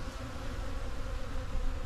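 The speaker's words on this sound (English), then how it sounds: "The air is just absolutely thick with bees right now." A thick swarm of honey bees around a honey extractor, filling the air with a continuous, even, close buzzing hum and no voices.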